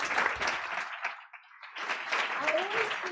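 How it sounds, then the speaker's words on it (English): Audience applause at a start-up night event in The Hague, a broad wash of clapping that dips briefly in the middle and swells again, with some voices mixed in. "Please give him a round of applause."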